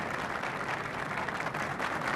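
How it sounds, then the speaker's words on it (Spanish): Applause from deputies and senators standing on the front steps of the Palacio de las Cortes at the 1978 sanction of the Spanish Constitution, a steady outdoor crowd clapping at moderate distance with no break. "recibe los aplausos de diputados y senadores"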